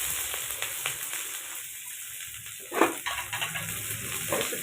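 Chopped onion dropped into hot oil already crackling with cumin and mustard seeds, a soft steady sizzle with a sharper burst of frying and stirring near the middle, fairly faint.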